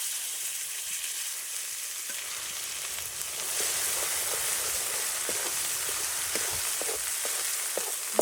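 Ground masala paste frying in oil for a village-style chicken curry cooked over a wood-fired stove, a continuous soft sizzle that grows fuller midway, with faint pops and no talking.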